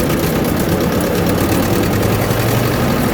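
An Ursus farm tractor engine runs loud and close with a warm engine, showing low oil pressure at idle, a dense steady rumble with a rough, even mechanical clatter and no voices.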